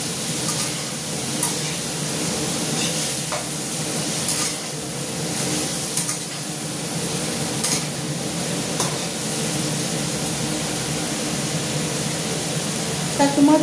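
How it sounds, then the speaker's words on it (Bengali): Spice masala being sautéed in a pan with a splash of water, a steady close sizzle with intermittent scraping stir strokes throughout, no talking. "এবার এটাকে আমি খুব ভালো করে একটু কষিয়ে নেব"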